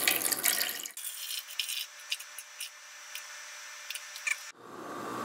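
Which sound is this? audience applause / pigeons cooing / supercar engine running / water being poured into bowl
water being poured into bowl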